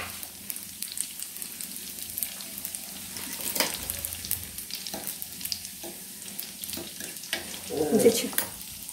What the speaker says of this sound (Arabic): حتى هما غنديرهم في المقله